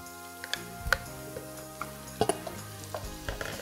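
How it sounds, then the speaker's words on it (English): Ground beef and pork sizzle together in a pan while a wooden spoon breaks the meat into chunks, giving a steady frying hiss with scattered scraping clicks and taps close by. "We're going to cook this meat, both of them together, breaking them down with a wooden spoon into smaller chunks"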